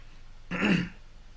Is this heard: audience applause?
no